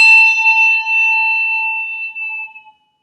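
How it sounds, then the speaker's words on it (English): A handbell is struck and dipped into water, ringing with a clear bright tone whose pitch wavers and warbles as it sustains, then the ring fades and cuts off abruptly near the end. "Now listen to this as I actually dip the bell"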